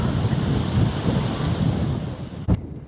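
Strong wind buffeting the microphone outdoors at an FEI one-star eventing competition during dressage warm-up, a steady loud rumbling roar with one sharp gust thump near the end.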